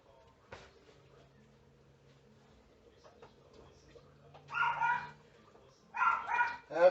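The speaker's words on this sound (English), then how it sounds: "That's my dog, Johnsy, making himself known to the neighbor dogs." A dog at home barks at neighboring dogs in two short clusters of sharp barks near the end, after a quiet stretch of faint household noise.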